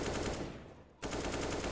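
Rapid automatic gunfire in a CS:GO match, a close, loud stream of shots that briefly thins out midway and then resumes at full intensity.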